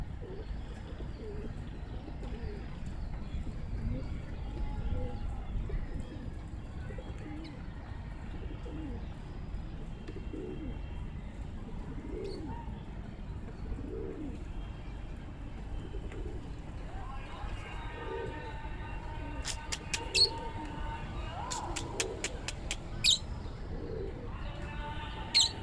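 Kala Desi Gandedaar pigeons coo softly in repeated low calls over a steady background, with brief chirps and wing sounds toward the end as a person talks nearby.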